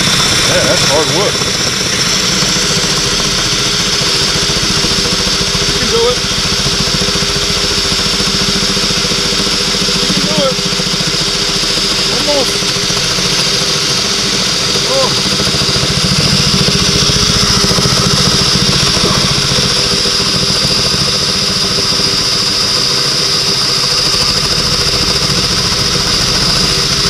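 A loud, steady motor whine from an electric drill boring into a hardwood picnic table, sustained close up for the whole stretch.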